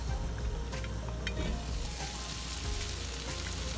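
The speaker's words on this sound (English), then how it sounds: "Can you hear the sizzle?" Cuban-style pork meatballs sizzling and frying in a hot pan, a close, steady crackle and hiss with occasional spattering pops.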